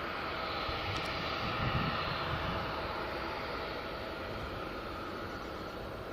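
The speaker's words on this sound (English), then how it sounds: "the auxiliary power unit that's just started is the Emirates" An Emirates airliner's auxiliary power unit runs at Newcastle Airport at night, a constant broad whooshing roar with a thin high whine, steady and moderately distant, with no voices.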